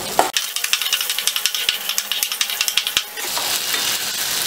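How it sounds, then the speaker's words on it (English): Garlic, ginger and green chilies sizzle in hot oil, with a steady loud frying hiss and a run of regular clinking spatula stirs for about three seconds before the sizzle carries on alone. "So next I'm going to add the garlic and the ginger, and then followed by green chilies, and saute them continuously."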